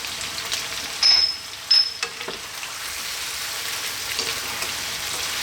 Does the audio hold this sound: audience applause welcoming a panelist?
no